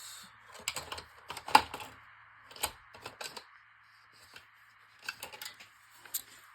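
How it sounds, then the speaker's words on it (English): Quiet, irregular snips and crunchy clicks of jagged-edged scissors working through damp paper napkins, close up, in short uneven bursts with pauses between. "It's not cutting very well because the paper is a little bit damp still."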